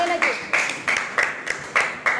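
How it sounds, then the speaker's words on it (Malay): Students in a classroom clap in unison, a series of about seven sharp, rhythmic group claps in quick succession, loud and close, with a brief voice near the start. "Tepuk tangan sekali lagi."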